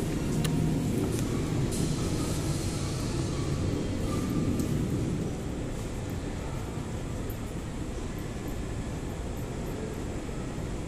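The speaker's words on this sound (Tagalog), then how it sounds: "may parating na naman na LRT light rail transit galing Baclaran" A light rail transit train from Baclaran arrives at a station, a steady, loud broadband rumble of wheels and motors that holds throughout and eases slightly partway through.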